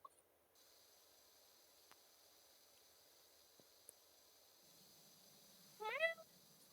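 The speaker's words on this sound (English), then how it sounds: "She meow meow meow and meow meow meows." A house cat gives one short, rising meow near the end, with quiet, near-silent room sound before it.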